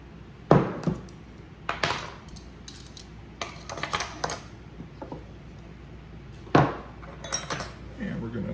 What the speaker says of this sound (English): And we're going to mix that all in together. I use a fork.